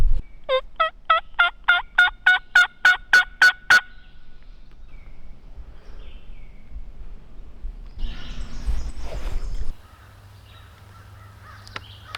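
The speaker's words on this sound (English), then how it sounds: "I saw a single tom out strutting and gobbling just on the other side of this woods out in the field" Rapid, loud, evenly spaced calls from a field, about ten in a burst, then quiet with a faint rustle and a short broadband noise burst; a tom turkey gobbling, though the picture cannot confirm the exact bird.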